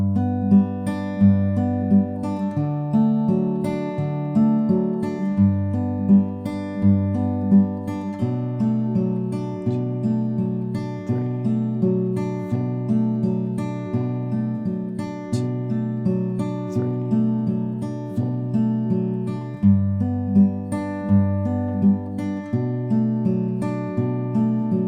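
Fingerpicked acoustic guitar plays the chorus of a song, a simple repeating pattern of plucked notes over bass notes, steady and clear with no singing or talking.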